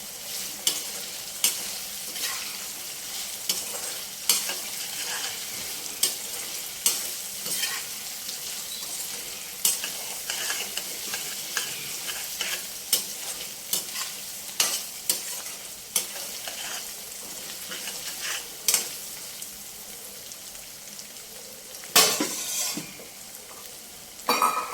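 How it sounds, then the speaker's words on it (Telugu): Ginger garlic paste frying in a pan for agakarakaya pickle, stirred steadily: a continuous close sizzle broken by regular spoon scrapes and taps against the metal, with a louder clatter near the end, no speech. "ఈ అల్లం వెల్లుల్లి పేస్ట్ చక్కగా ఎర్రగా వేగాలి."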